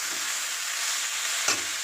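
Chopped kolmi greens frying with shrimp in a pan give a steady, close hiss of sizzling oil, with one brief stirring scrape near the end.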